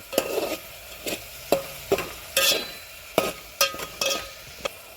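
Vegetable curry with cumin and turmeric being stirred in a pan, a series of distinct scraping stir strokes in an uneven rhythm over a faint background sizzle, close and fairly loud, no talking.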